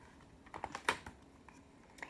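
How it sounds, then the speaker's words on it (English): A few sharp, dry clicks standing in for a click beetle, one louder snap in the middle flanked by fainter ticks, quiet and isolated with no voices. "with a loud click"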